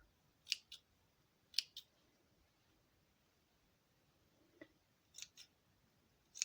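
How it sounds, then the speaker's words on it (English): Scissors snip the loose fabric ends while sewing, making several short, crisp cuts in small clusters at close range against a quiet room. "I'll just trim away the little end pieces there."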